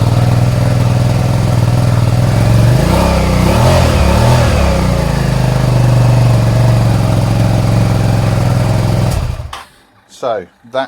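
A loud Suzuki SV650 motorcycle engine with a suspected faulty stator idles roughly and then revs up and down a few times before cutting off abruptly, leaving a few faint clicks.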